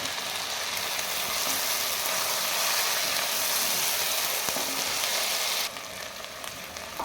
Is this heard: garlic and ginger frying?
yes